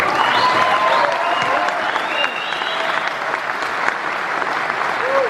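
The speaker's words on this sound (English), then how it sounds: "a huge round of applause for Frank Holland, John Motley, Tara Wilcox," A theatre audience at the Hammersmith Apollo applauds after a Quadrophenia Q&A, with loud sustained clapping from a large crowd, scattered whoops and cheers mixed in, and no break throughout.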